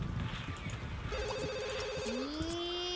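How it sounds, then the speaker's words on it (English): A telephone in The Sims 2 rings with a steady warbling electronic tone over soft background game sounds, repeating as a pair of rising trills near the end. "Ruby, you answer the phone"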